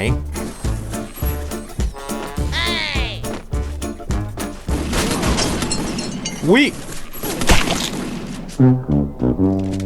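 Rapid gunfire in a video game shootout, sharp repeated shots in quick bursts mixed with blasts and sweeping effects, loud and close, with excited voices talking over it.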